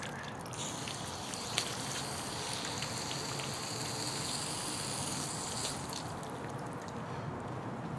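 Water drains from the valve end of an expandable garden hose after the pressure is released, a steady, soft splatter and trickle of water with no voices.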